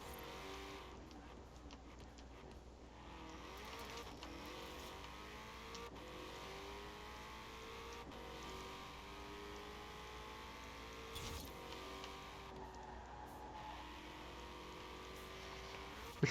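A 2005 Hot Wheels Mustang on drag slicks drives through a forest in Forza Horizon 4, its engine droning steadily with shifting revs throughout, no talk.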